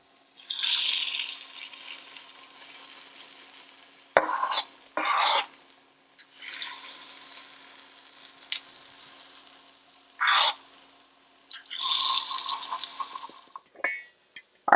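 Falafel mixture of chickpeas frying in a slotted pan, a bright sizzle that comes and goes in bursts, with scraping and clattering handling sounds between quieter gaps.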